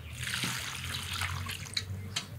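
Water is poured into a bowl while fish, garlic, onion, ginger and chilli are being washed, a soft continuous splashing flow, fairly quiet and close, with a couple of small clinks.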